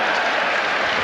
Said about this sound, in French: Et le public applaudit toujours.